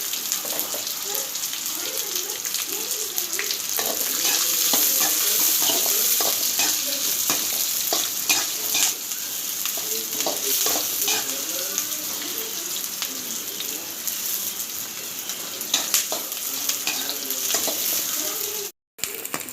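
Small-cut onions frying in a pan for egg rice, a continuous close sizzle with frequent stirring scrapes throughout, briefly cutting out near the end.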